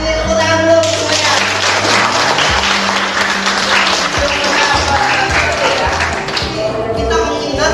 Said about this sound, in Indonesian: ini tepuk tangan dulu semuanya